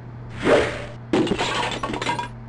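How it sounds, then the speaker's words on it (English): In King's Quest VI, a magic arrow strikes a shield: a whooshing swell comes first, then a sharp shattering crash trails off into tinkling fragments over a low steady hum. "The magic arrow completely shatters the shield."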